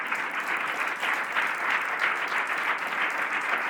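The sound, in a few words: audience applause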